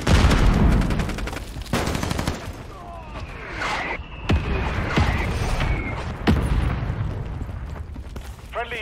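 Gunfire in Call of Duty Modern Warfare 3 multiplayer comes as scattered sharp shots and short bursts over a rumbling battlefield. A loud blast opens the stretch, and voices speak intermittently over the fighting.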